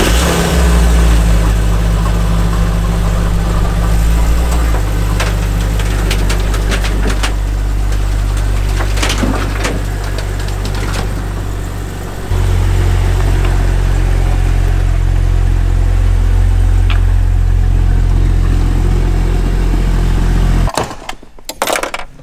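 A Jeep engine runs loud and close as the vehicle is driven off a trailer. The steady rumble shifts in pitch with throttle changes partway through, then cuts off abruptly near the end.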